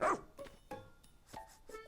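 Pup barking in the video game Pikmin 4: one sharp, close bark at the start, followed by fainter short yips and sniff-like sounds, quiet over a low background.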